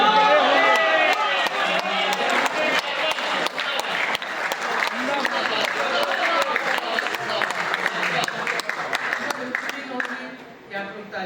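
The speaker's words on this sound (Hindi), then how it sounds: "तालियां बजी" A mushaira audience bursts into loud, dense applause from many hands, sustained for several seconds before gradually thinning out toward the end.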